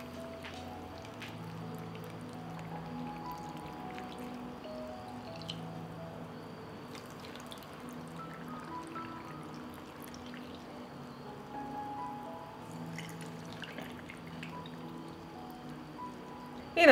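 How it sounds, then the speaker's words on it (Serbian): Water is poured into glass jars, a soft, steady trickle and pour with faint drips, quiet and continuous for about seventeen seconds. "I na kraju ću napuniti tegle sa vodom."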